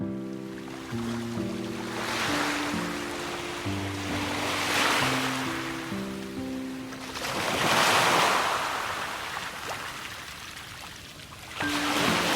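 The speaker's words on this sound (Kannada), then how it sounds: "ನಮ್ಮ ದೇವಸ್ಥಾನದ ಎದುರುಗಡೆ ತುಂಗಭದ್ರಾ ನದಿ ಹರಿತಾ ಇದೆ" The Tungabhadra river flowing in front of a temple, a broad rushing wash of water that swells and recedes in slow surges, with a steady low tone running under parts of it.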